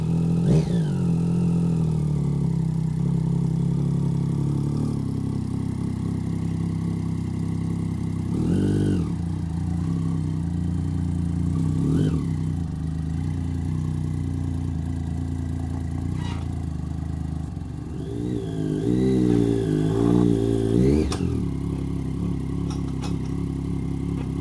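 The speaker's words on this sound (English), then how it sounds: "putting the bike onto the trailer is basically just a matter of getting into gear and then kind of hand riding it up the ramp" Motorcycle engine idling in gear as the bike is ridden up a ramp onto a Motolug trailer, a steady mid-pitched drone with a few short revs and a rising blip near the end, moderately close.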